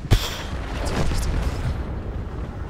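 A single tank cannon shot in the World of Tanks video game: one sharp, heavy boom near the start, followed by a long low rumbling tail that fades slowly.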